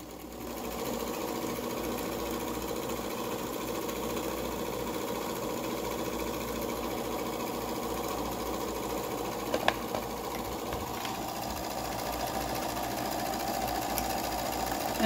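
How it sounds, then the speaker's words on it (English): Sewing machine stitching a straight line with backstitching on a fabric face mask, a steady close mechanical hum and rapid needle rattle running continuously with only brief clicks. "it's faster for me to just go ahead and sew, and we're gonna just do one straight line with this"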